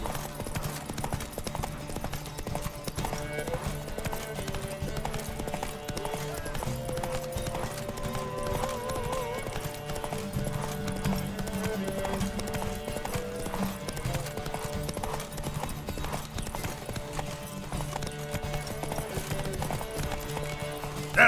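Horse galloping in a race in The Witcher 3: Wild Hunt, rapid rhythmic clip-clop hooves pounding steadily throughout under layered game music and ambience.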